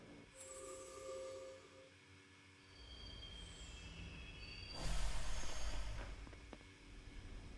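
Train in the video game Persona 3 Portable running along the rails, a steady rumble with squealing wheels that swells louder toward the end.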